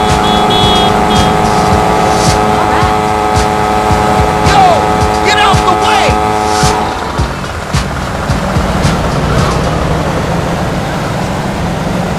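A revving motorcycle engine in GTA Vice City roars steadily, its pitch rising and falling as it accelerates, with a constant rumbling mix of engine and game sounds throughout.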